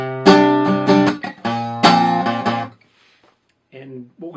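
Guitar playing a short passage of a live song: two ringing strummed chords with small accents between, fading into near silence before a faint trailing voice.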